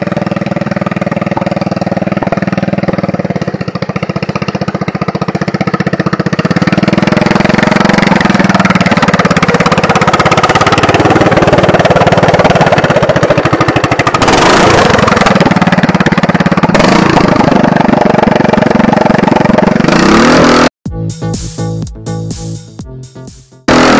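An LT100 riding lawn mower with a new gas pedal, driving into mud: a steady, loud engine drone holds for about twenty seconds, then breaks up into choppy, sputtering bursts near the end.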